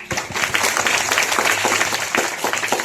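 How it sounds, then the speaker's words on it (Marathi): An audience at a Zilla Parishad Marathi school event in Jambhol claps loudly in dense, continuous applause lasting a few seconds, with faint talk barely underneath. "त्यांच्यासाठी आपण सर्वांनी जोरदार टाळ्या वाजवा"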